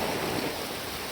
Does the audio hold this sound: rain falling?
yes